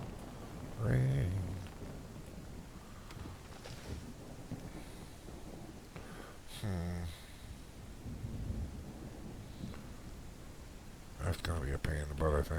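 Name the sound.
rain in the video game Out Of Ore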